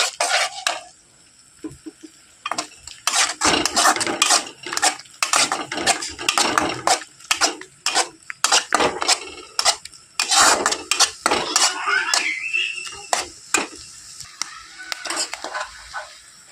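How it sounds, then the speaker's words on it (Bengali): Eggs scrambled and fried in hot oil for a tarka, with frequent sharp spatula scrapes and clanks against the pan over a light sizzle, close and busy throughout. "ডিমটা ঝুরি ভাজা করে নেব।"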